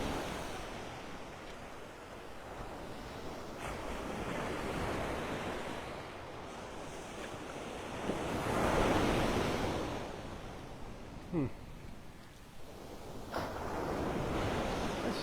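Surf breaks and washes on a Gulf beach in North Naples, Florida, a continuous roar swelling in slow surges, with wind buffeting the microphone.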